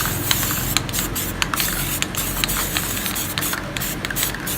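A continuous hissing spray from a spray paint can, steady with brief pauses and short bursts, close by.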